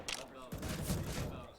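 In a CS:GO pro match on Mirage, Ninjas in Pyjamas versus Team Liquid at IEM Cologne 2021, rapid gunfire fires through walls. Bursts rattle continuously under a caster's commentary.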